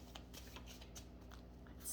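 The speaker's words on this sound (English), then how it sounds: "I'm just going to shuffle these cards up a little bit" Tarot cards being shuffled by hand, a soft papery riffle of quick bursts in an uneven rhythm, close and quiet, with a low steady hum underneath and no talking.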